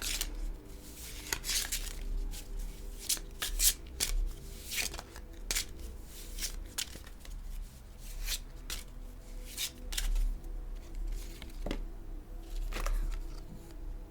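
Oracle cards are shuffled and handled for several seconds, giving sharp snapping riffles and soft rubbing over a low steady background hum, with no speech.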